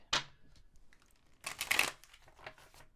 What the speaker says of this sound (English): And then we're going to cut it.